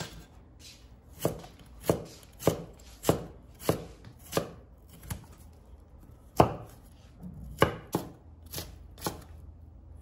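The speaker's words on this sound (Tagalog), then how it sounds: "Pero gustong gusto ko talaga tong kamote. Hiwain lang natin ng maninipis ng konti." A knife slices sweet potato thinly on a cutting board, about a dozen crisp, sharp chops in an uneven rhythm, close and clear with no talking.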